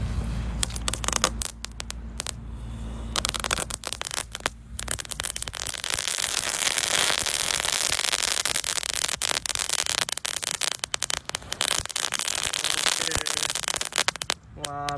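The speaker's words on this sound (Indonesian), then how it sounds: "ini ada mercon gangsing di dalam botol" Loud, continuous crackling and fizzing with sharp pops from a spinning firecracker sputtering inside a bottle, with some hum underneath.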